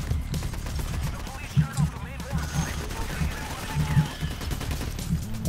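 Rapid gunfire from the heist game Payday crackles in repeated bursts and single shots throughout, close and loud, with chatter mixed in underneath.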